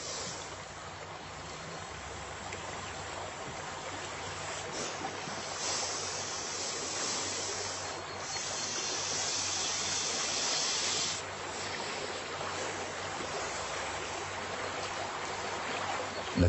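A river flowing with a strong current makes a steady, dense rushing wash that stays loud and even throughout with no voices.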